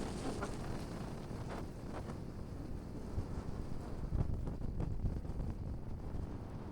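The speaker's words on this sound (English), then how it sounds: "Hopefully the wind's going to ease off a little bit later." Wind buffeting a boat at anchor off Lady Musgrave Island, a steady broadband rush with gusty swells and faint hull or water noise beneath, continuous throughout with no talking.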